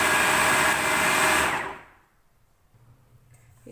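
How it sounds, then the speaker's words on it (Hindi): A kitchen grinder whirs loudly, grinding a chicken nugget mixture with garlic powder, black pepper, paprika, soy sauce and mustard paste, then winds down and stops partway through, leaving near silence. "ये हमने अच्छी तरह से ग्राइंड कर लिया।"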